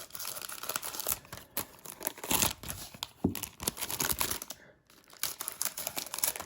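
Crinkly plastic wrapper of 1987 Topps baseball card rack packs being cut open, a run of close, quiet rustling, crackling and snipping noises with a brief pause near the end.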